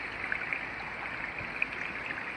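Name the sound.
spring water trickling and falling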